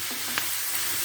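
Chicken noodle stir fry sizzles in a pot with a steady, close frying hiss throughout, plus a brief stir or clink near the start.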